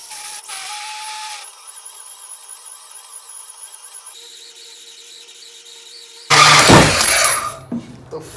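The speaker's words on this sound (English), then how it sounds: "The fuck is wrong with this saw?" A power saw cutting thick metal while building a 20-ton hydraulic press brake runs erratically, starting with a thin whine that shifts in pitch and then breaking into a loud, harsh grinding burst near the end.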